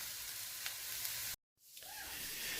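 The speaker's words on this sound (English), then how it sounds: "while we're working on the peppers and onions, sauteing here, getting those to cook down" Peppers and onions sauté in a pan as a side for a Philly cheesesteak, giving a steady, bright sizzle. It cuts out briefly partway through, then the sizzle returns.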